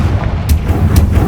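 A Confringo blasting spell explodes in Hogwarts Legacy, a loud, booming burst with a rumbling low tail and two sharp cracks, heavy and close.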